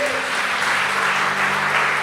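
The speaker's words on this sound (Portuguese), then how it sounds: "Quem recebe isso, aplaude ao Senhor." A church congregation applauds in a steady, full burst of clapping, loud and continuous throughout, with faint tonal sound beneath.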